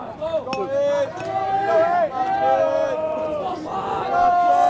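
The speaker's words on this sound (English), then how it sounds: "As you guys can hear some noises from the Xavier fans and their dugout." Crowd noise from fans and a team dugout at a 2024 WIAA sectional final high school baseball game in Appleton, a steady hubbub of voices and shouts running loud and continuous throughout.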